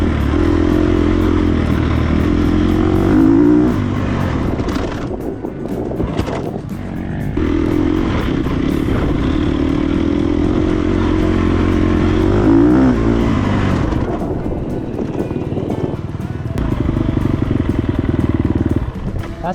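A dirt bike engine roars hard and steady under acceleration, then its pitch drops as the rider brakes, before surging again; close, loud and continuous throughout.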